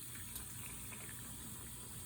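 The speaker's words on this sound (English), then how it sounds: "I have a consistent, steady flow of water going into this hole as I drill." Steady water flow running into a hole while a glass tank is drilled with a diamond circular bit on low speed, a constant faint wash of liquid with no voices.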